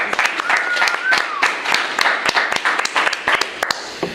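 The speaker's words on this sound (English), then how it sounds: "Let's give them a round of applause." Sustained applause with dense, irregular clapping from a live studio audience at an indoor sports center, fairly loud and close, with a few voices mixed in.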